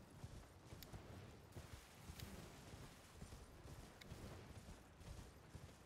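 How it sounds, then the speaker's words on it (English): Horse hooves galloping across open ground in Elden Ring: Shadow of the Erdtree, a steady rhythmic clip-clop of repeated hoofbeats running continuously at moderate volume with no talk over it. "we're going to get on our horse and head north"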